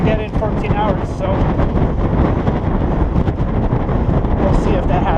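Strong, constant wind buffets the microphone during a night ride on a Cannondale F4000sl mountain bike, a loud, continuous roar.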